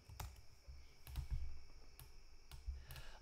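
Computer keyboard typing, a few sparse key clicks spaced unevenly over a quiet, faint background with no talking.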